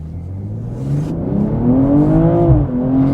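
A 2022 BMW M240i six-cylinder coupe accelerates hard from a standstill, its engine pitch climbing steadily with a brief dip as it shifts, loud and close throughout.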